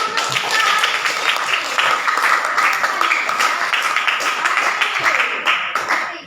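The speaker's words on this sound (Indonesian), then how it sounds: "Kita beri aplaus" An audience gives a dense, steady round of applause for about six seconds, many hands clapping together at close range before the sound cuts off.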